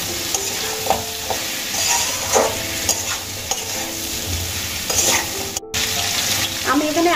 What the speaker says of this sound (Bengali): আলু আর কুমড়োগুলোকে আমি কিছুক্ষণ ভালো করে ভেজে নেব।